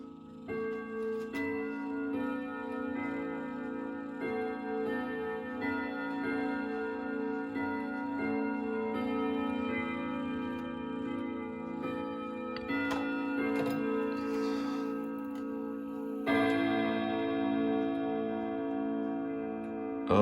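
A Bulova grandfather clock, freshly set back in its case, ticks steadily and evenly, close and clear, with resonant chime-like tones ringing in the background and no voices.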